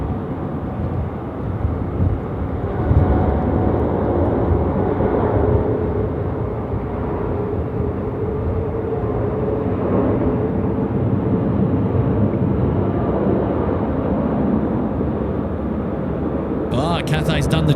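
A Scoot airliner departing Sydney Airport for Singapore at night, heard as a loud, steady broadband jet roar from nearby, with someone talking over it.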